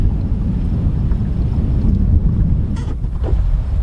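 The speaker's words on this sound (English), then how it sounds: "It's a little bit windy right now." Gusty wind on the Petawawa River in Algonquin Park, a constant loud rumble buffeting the microphone with faint water sounds underneath and no talking.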